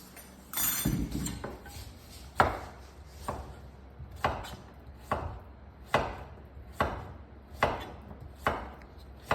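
A knife chops food on a cutting board in sharp, close, evenly spaced strikes, about one per second, after a few quicker cuts at the start. No one speaks.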